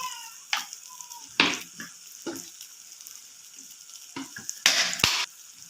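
Tomato and onion with turmeric being stirred in a pan for egg roast, scattered spoon scrapes and clanks against the pan over a faint sizzle, irregular and close.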